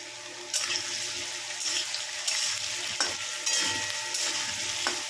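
Crushed green chili, ginger and garlic hit hot oil in a pan, giving a steady close sizzle with a few stirring scrapes and clinks over five seconds, no voices.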